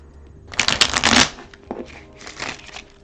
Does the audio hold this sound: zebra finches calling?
no